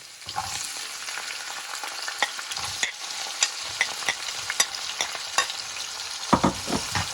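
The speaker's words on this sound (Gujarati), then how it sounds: "હવે ઓનિયન નાખી દઈશું।" Onions fry in a pan with ginger-garlic paste for egg fried rice, a steady close sizzle punctuated by sharp stirring scrapes and taps, with no talking.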